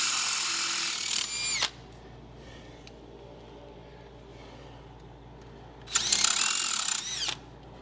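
A power drill boring holes through metal tubing for a 1967 Firebird ram air tube, two short whining bursts separated by a quiet stretch of background hum.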